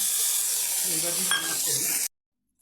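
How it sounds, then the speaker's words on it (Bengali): Nigella seeds and dried red chilli sizzle in hot mustard oil, a steady close hiss for about two seconds before it cuts to silence, with a faint voice underneath. "সরষার তেল দিয়েছি দিয়ে শুকনো লঙ্কা চিড়ে ফোড়ন দিয়েছি আর দিচ্ছি একটু কালো জিরা কালো জিরাটা ভেজে নিয়েছি"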